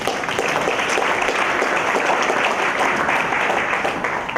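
An audience at an anniversary gala bursts into steady, sustained applause, a dense wash of many hands clapping.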